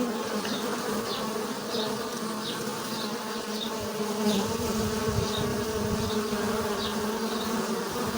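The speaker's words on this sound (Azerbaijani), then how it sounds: "Yəqin ki ilk bələdçilik uçuşudur." Honeybees hum steadily around a small nucleus hive as a young queen takes her first orientation flight. Many wings buzz close by, loud and continuous, with single bees zipping past now and then and no talking.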